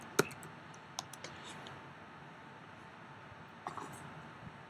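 A password being typed on a computer keyboard while setting up a VNC server on a Raspberry Pi: a few sparse, sharp key clicks, one loud tap followed by scattered fainter presses over quiet background.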